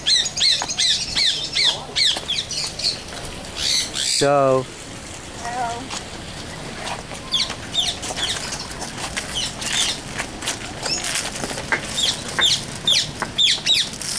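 Peacock at a bird park in Kuala Lumpur giving repeated loud squawks, with a burst of heavy wing flapping midway, amid other bird calls and people talking nearby.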